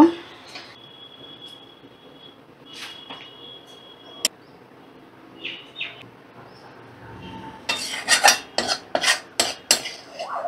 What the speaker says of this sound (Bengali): রান্নাটা আমি সার্ভ করে দেব।